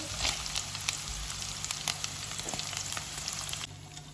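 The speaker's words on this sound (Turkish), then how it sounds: "Öbür tavamızda ona pişiriyor. Bayağı güzel daha güzel çıtır çıtır kızardı." Steady, close sizzling of chicken breast frying in a hot pan, with crackling pops scattered throughout and no voices.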